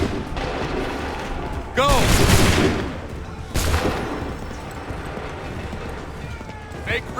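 Musket volleys crack out in an Assassin's Creed III battle at Lexington and Concord, two loud massed bursts a couple of seconds apart over battlefield din, with a voice shouting commands.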